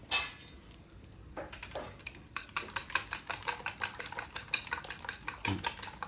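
A utensil stirs and scrapes in a frying pan, making a quick run of rhythmic metallic clinks and scrapes, close and fairly quiet, after a few scattered knocks at the start.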